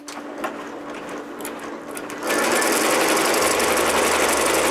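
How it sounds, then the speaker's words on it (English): Embroidery machine starting up after quieter handling noises, then running loud and continuous with a dense, even rattling hum close by. "I'm gonna be tightening the tension until the machine can run on its own"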